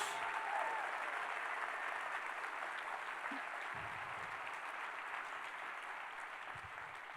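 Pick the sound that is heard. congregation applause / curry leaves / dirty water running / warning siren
congregation applause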